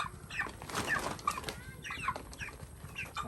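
Several backyard chickens cluck in short, scattered calls, with a soft flutter of wings, over a busy outdoor ambience at moderate distance.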